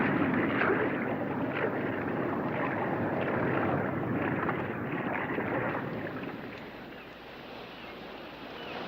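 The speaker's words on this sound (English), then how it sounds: "Suddenly, I was aware of a sound vibration. It could be an approaching ship." A steady low rumbling wash of noise with a faint throbbing vibration, like a distant vessel heard through water, easing slightly toward the end.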